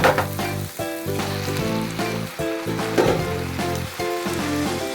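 Ginger and garlic sautéing in a hot pan for prawn thokku, a steady close sizzle with scraping stirs of a spatula throughout.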